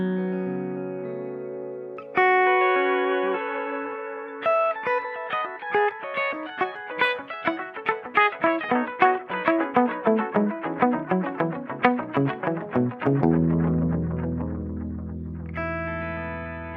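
Electric guitar through a Kemper quad harmonic delay effect, sustained chords and then quick plucked notes that stack into layered pitch-shifted echoes, building densely before a final held chord, heard alone without talk.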